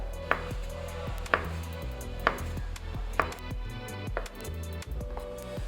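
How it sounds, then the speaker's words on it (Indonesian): Onions are sliced for a pizza topping, a knife striking the board in a slow series of distinct chops roughly once a second, heard under soft background music. "Sekarang kita akan iris-iris bawang bombay dan juga isiannya sesuai dengan selera"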